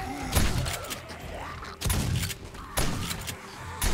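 Repeated gunshots in the 7 Days to Die video game, fired at a dog: several loud, sharp bursts spaced about a second apart, each with a booming low thump and a short decaying tail.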